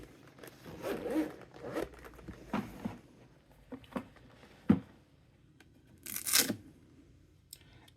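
The zipper on a JSAUX carrying case for the Nintendo Switch 2 is pulled in close, quiet rasping strokes, mixed with soft handling rustles and a sharp final zip.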